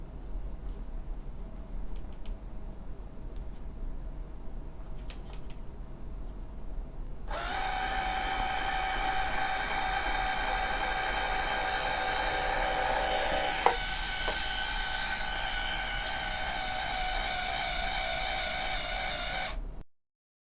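A DC motor runs with reversed polarity, a steady mechanical whine that starts abruptly partway through, holds, shifts briefly in pitch midway, then cuts off, close and fairly loud.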